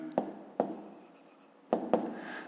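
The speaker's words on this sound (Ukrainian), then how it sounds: "Пишемо відповідь." A pen writes a maths answer by hand on paper, four sharp taps of strokes and dots separated by soft scratching and faint scribbling, close and quiet with no voice.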